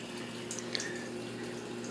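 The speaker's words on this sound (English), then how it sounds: "Hear the water go on." Water starts flowing into a KitchenAid dishwasher under repair, a faint steady hiss and trickle heard alone for a couple of seconds.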